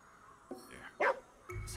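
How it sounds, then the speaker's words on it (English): A dog in the video game Ghostwire: Tokyo lets out a few short barks and yips, faint at first and then one louder bark, with a voice murmuring briefly around them. "It's another dog over here, though."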